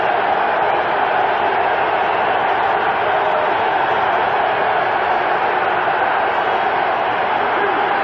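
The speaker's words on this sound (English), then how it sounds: "Now the crowd gets back into the ballgame here at Three Rivers." Large football crowd at Three Rivers Stadium during a 1985 Oilers–Steelers game, a steady dense roar of many voices and cheering, loud and continuous throughout with no distinct breaks.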